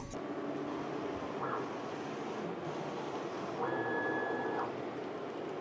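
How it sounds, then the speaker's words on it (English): Print head calibration run on a printer laying down test lines: steady mechanical whir with two rising-falling carriage sweeps, the second longer, over a constant motor hum. "Then the printer starts to print."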